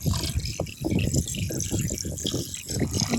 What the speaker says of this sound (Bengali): মাংসগুলোকে ভালো করে জল দিয়ে পরিষ্কার করে ধুয়ে নিলাম